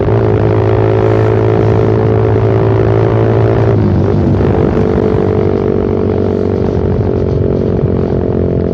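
A Suzuki Satria FU motorcycle fitted with a Pro Liner aftermarket exhaust cruises on a main road, its engine droning loud and steady with a sustained throaty hum that shifts pitch briefly midway as the rider changes speed.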